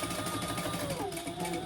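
A sewing machine runs in a steady, faint whirring stitch while basting the sides of bag pieces together, continuous and unbroken for the short span.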